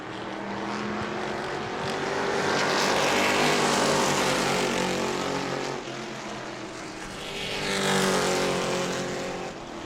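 Super Stock race cars at New Smyrna roar past close by in a continuous loud engine drone, swelling and fading as the pack sweeps through the turns.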